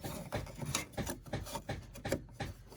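A plastic switch plate cover is fitted over a wall light switch, giving faint, repeated rubbing and scraping clicks in an uneven rhythm, close by and alone.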